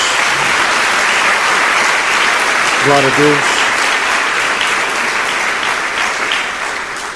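A church congregation applauds in praise of Jesus, a steady wash of clapping throughout, with a brief spoken exclamation partway through.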